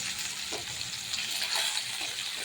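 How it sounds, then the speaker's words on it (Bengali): Koi fish frying in hot oil, a continuous soft sizzle and spatter with a few faint clinks from turning the pieces, close and steady with no voices. "এইদিকে দেখুন আমার মাছ ভাজা হচ্ছে"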